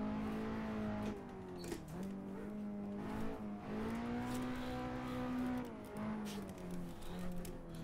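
Simulated car engine revving hard while drifting in Assetto Corsa, a continuous loud whine rising and falling in pitch with tire squeal, no talk.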